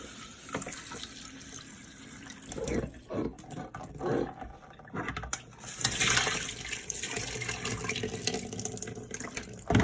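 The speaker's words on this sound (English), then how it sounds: "drain the rice one final time and getting as much of it into the sieve this time as you can" Water splashes and runs steadily, rising to a louder gushing pour in the second half, as rinse water drains from rice through a sieve at close range.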